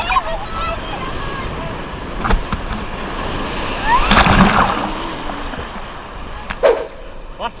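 Large ocean waves crash and roll onto a beach in a continuous loud surf wash, with several heavier breaking surges, and people call out over the roar.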